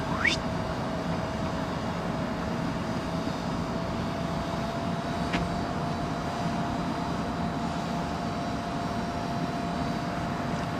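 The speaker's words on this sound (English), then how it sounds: "DHL A300 inbound" A DHL Airbus A300 cargo jet arriving at Heathrow on runway 27L: a steady, broad engine roar with a sustained tonal whine, constant and fairly loud throughout.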